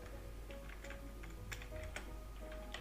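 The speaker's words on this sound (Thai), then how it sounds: "พิมพ์คำว่า utbot" Keys clatter on a computer keyboard in a short burst of quick, light taps typing a brief word, fairly faint and close, with no talking.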